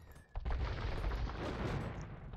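Bombard cannons fire in an Age of Empires–style strategy game battle, a sudden booming volley followed by a sustained rumble of overlapping blasts and clatter, fairly distant and muffled.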